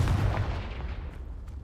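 A Confringo fire spell blasts in the video game Hogwarts Legacy: a single loud, deep booming burst that rumbles and fades away over about a second and a half.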